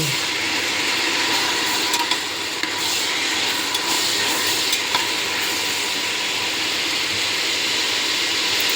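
Mutton biryani ingredients are stirred in a pot, a continuous close sizzle with scraping and rubbing strokes of the spoon running unbroken, no voices.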